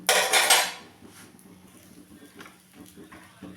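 An aloo paratha set down on a hot pan with a brief loud clatter at the start, then quieter scattered clinks and a low background hum, no speech.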